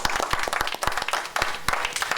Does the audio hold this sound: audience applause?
yes